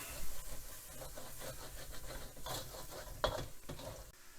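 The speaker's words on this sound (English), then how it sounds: "deglaze the sides of the wok a little bit, I'm going to add a little bit of chicken stock" Chicken stock splashed into a hot wok to deglaze it, giving a steady hiss and sizzle with scraping and stirring. It stays fairly quiet, with one brief sharper clatter near the end.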